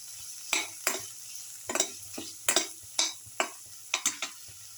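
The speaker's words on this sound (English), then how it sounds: "Salt and mix thoroughly." A spoon scrapes chili powder, turmeric and salt through a sizzling rice mixture in a frying pan, giving about nine sharp, close stirring strokes at an uneven rhythm over a soft steady fry, with no talking.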